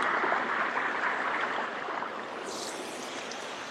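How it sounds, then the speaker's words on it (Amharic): A clean water stream flowing toward a lake in Switzerland, a steady close rushing hiss of running water that stays even throughout, with no voices. "ይሄ የምታዩት ውሃ ቀጥታ የሚሄደው ወደ ሐይቅ ነው የሚሄደው"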